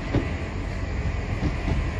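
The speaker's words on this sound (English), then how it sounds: "here comes the Westbury train via Bristol Temple Meads and Gloucester." Class 166 passenger train arriving at a station on the Cotswolds Line, a steady rumble of wheels and engine with faint rhythmic clicking, close and continuous.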